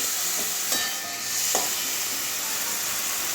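Potatoes and bitter gourd stir-fried together in a pan for a prawn curry, the potatoes not fried beforehand; a continuous hissing sizzle with a couple of soft stirring scrapes, no talking.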